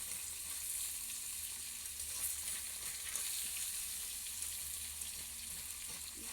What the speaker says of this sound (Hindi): पनीर फ्राई कर रहे हैं